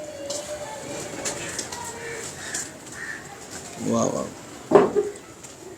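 Pigeons from a Lahore fancier's loft coo in short low bursts near the end, over steady background hum, with a voice exclaiming and people talking around them.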